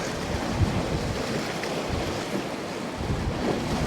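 Gusting wind on a winter shoreline while bass fishing, a loud continuous roar buffeting the microphone, with surf and water noise blended underneath and no talk.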